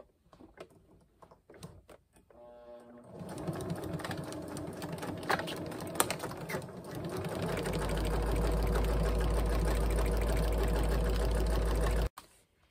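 A sewing machine stitches panels of recycled food packaging, starting with a few soft handling clicks and a brief whirr, then running steadily and loudly for about nine seconds before stopping abruptly.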